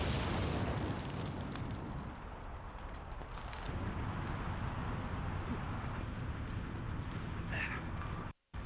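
A mysterious object from space crashes through the atmosphere with a sustained, loud, rumbling roar that fills the whole clip, then cuts off abruptly near the end.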